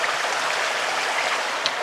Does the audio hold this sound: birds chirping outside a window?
no